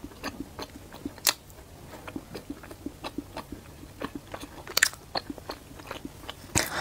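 Repeated crisp bites and crunchy chewing of a rose-petal pastry with a very crispy outer skin, close and distinct, a steady series of sharp crunches with no talking.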